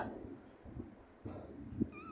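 A cat gives a faint, short meow near the end of a quiet stretch of indoor background noise.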